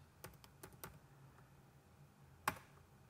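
A computer keyboard gives a quick cluster of faint, light key clicks, then a pause and one sharper tap, while text is set up in CNC design software.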